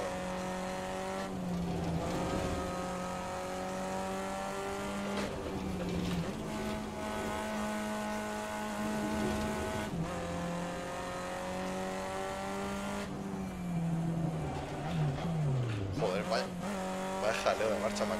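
Renault Twingo lapping the Nürburgring, its small engine droning and revving steadily with gear changes and pitch dips, heard from inside the car under occasional talk.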